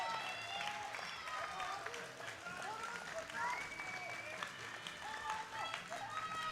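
A standing crowd at the women's 69 kg World Open Equipped Powerlifting Championships 2021 applauds and cheers in a continuous roar, heard under a commentator talking throughout.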